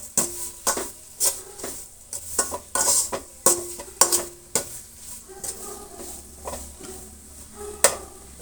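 Turmeric and salt frying in a pan for cabbage gobi fried rice, with a spoon clinking and scraping against the metal in uneven bursts over a faint sizzle; no talking.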